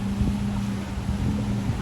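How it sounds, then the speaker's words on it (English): Steady wind roars across a rainy beach, a broad continuous rush with a low hum underneath, close and fairly loud throughout. "And it's getting really windy."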